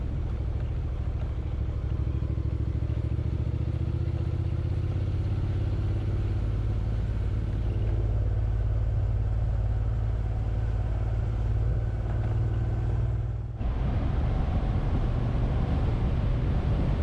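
Motorbikes ride a country road, heard as a steady close engine drone mixed with rushing wind noise that shifts abruptly partway through.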